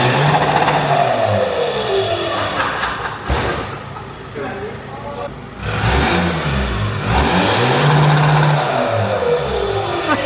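A VW Golf Mk5 with a custom exhaust revs hard in repeated rising and falling sweeps, loud and close, with a brief lull in the middle and a voice talking over parts of it.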